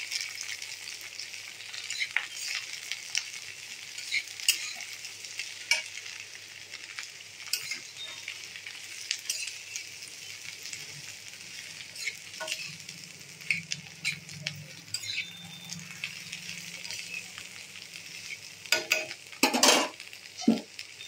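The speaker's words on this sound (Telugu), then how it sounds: "ఆనియన్స్ వేసి ఒకసారి కలబెట్టి" Sliced onions fry and are stirred in a hot pan, a continuous bright sizzle with occasional ladle scrapes and taps, a louder clatter of stirring near the end, close and without voices.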